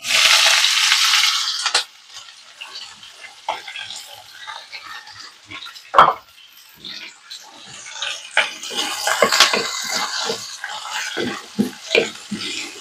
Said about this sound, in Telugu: ఇవి వేసిన తర్వాత కొంచెం ఆవాలు జీలకర్ర చిట్పట్లాడినాయంటే ఉల్లిపాయలు వేసేసుకోవడమే.